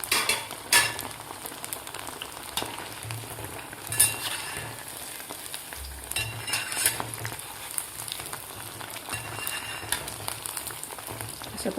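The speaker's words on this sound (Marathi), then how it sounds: "अशा प्रकारे आता दोन्ही साईड व्यवस्थित गोल्डन कलर येईपर्यंत आपल्याला हे तळून घ्यायचे आहेत वडे." Barnyard millet vade deep-fry in hot oil and are turned to brown on both sides. A dense, crackling, rain-like bubbling runs throughout, with occasional utensil clinks and soft knocks and no talking.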